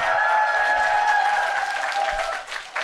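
An audience claps for a lecturer arriving to speak, a steady wash of applause that dies away near the end, with a sustained tone underneath.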